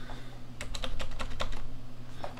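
A computer keyboard during Swift app development, with about ten quick, crisp key clicks in a short burst followed by one more tap, close and fairly quiet over a low steady hum.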